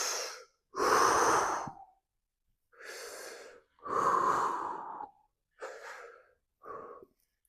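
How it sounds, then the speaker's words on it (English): Deep, rhythmic breaths taken during a seated twist exercise, loud and close, with about six inhales and exhales separated by short silences and no talking. "So that's nice to get into a breathing rhythm as well, because it just helps you relax."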